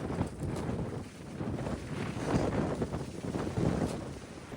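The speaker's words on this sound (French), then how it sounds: "Il y a du vent, hein." Steady gusting wind buffets the microphone with rumbling noise that rises and falls throughout, no voices.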